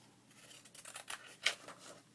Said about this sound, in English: I'm just going to cut off a nice strip across there.